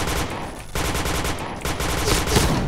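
Rapid, loud gunfire in the online shooter Point Blank, a dense run of shots with a brief pause before another burst, close and dominant with no talk over it.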